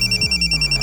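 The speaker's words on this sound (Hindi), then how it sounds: "सर नागपुर से शकील का फोन है।" A telephone rings with a rapid electronic trill, loud and close, pulsing in quick regular bursts.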